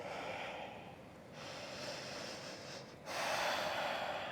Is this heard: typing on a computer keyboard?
no